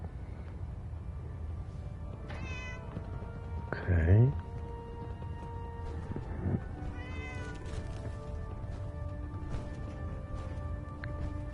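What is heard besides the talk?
cat meowing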